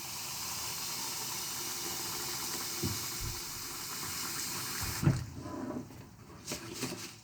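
Cold tap water pours steadily into a bowl of rice for rinsing, a continuous close hiss and splash with a few louder knocks and sloshes toward the end as the flow changes.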